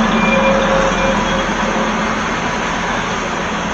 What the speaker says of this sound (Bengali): ট্রেনের অ্যারাইভাল, টয় ট্রেনের।